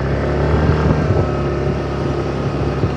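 A Yamaha D'elight 125 scooter accelerates on a road around Nice, its small engine giving a steady, loud, close drone with rising intensity and some wind buffeting throughout.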